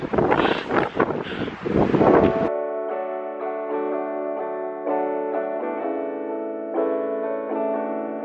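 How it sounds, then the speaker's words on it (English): Strong wind on a mountain during a snowstorm: heavy gusts buffet the microphone loudly for about two seconds, then the roar cuts off abruptly and a steady tonal hum follows. "This wind is incredible."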